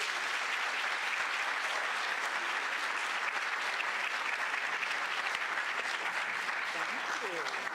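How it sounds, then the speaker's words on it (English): A conference audience applauds speaker Dr. Brandon Avon Sr. at the Nashville Conference on African-American History and Culture, with an even, continuous wash of clapping from a large hall, moderately distant and steady, with a faint voice near the end. "Let's give Dr. Brandon Avon Sr. another round of applause"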